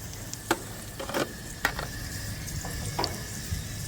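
Vegetables and salmon seasoning sizzle in hot oil and butter in a pan, with a steady close fry and a few sharper clinks and stirring bursts, no talking.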